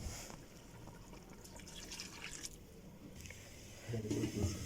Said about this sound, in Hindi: 3 गिलास मैं पानी शामिल करूँगा